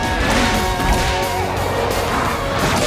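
Giant spatulas smashing in a Blaze and the Monster Machines game, a loud crashing impact followed by whooshing, clattering game effects that fade out.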